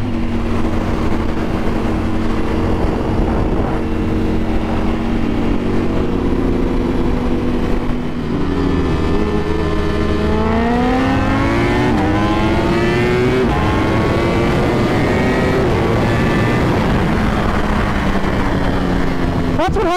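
A Ducati Panigale V4 R motorcycle races at speed, its loud, close engine howling and climbing in pitch through the gears, with a continuous roar throughout.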